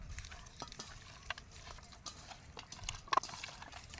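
Ground masala being mixed by hand into chicken pieces for biryani: soft, irregular wet stirring and scraping with a few sharper clicks, quiet and close.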